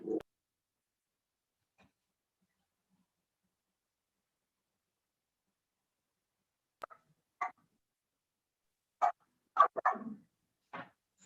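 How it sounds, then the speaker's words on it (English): A pet dog barks in short, sharp bursts inside a meeting room, with one yelp at the start and then a cluster of several barks toward the end, separated by long silent gaps. "I apologize for my dog."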